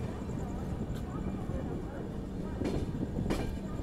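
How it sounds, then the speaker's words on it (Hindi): A Purushottam Express train rolls past with a continuous loud rumble and rattle of wagons. Brief clacks of wheels over rail joints break through, and voices talk in the background. "हाँ, देखें कौन सी ट्रेन है ये। तो ये है पूरी नई दिल्ली पुरुषोत्तम।"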